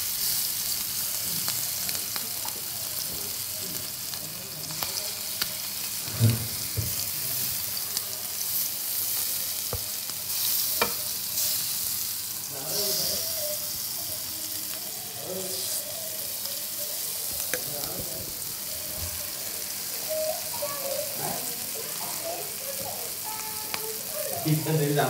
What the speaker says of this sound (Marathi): आणि कोळंबी तेलात सोडूया.